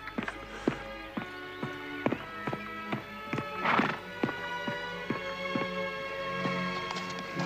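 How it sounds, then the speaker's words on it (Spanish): A horse whinnies once while its hooves clip-clop in a steady, close rhythm across the whole stretch, with harness clinks and shuffling around them and no talk. "Quieto, quieto, caballo."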